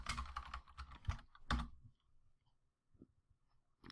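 Quick burst of keystrokes on a computer keyboard while entering a command, close and quiet clicking for about two seconds, then near silence with a couple of faint isolated taps.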